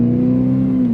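Scion xB engine with rotten, leaking exhaust parts, holding a loud, steady, buzzy drone at constant revs, close up and raspy throughout the one-second clip.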